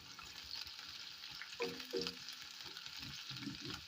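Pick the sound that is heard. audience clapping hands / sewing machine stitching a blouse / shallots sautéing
shallots sautéing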